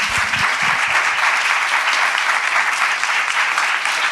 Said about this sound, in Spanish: Creo que podemos aplaudir.